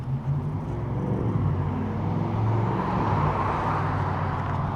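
A car rolls past on a city road, a moderate whooshing engine and tire drone that swells and fades over a few seconds with no talk.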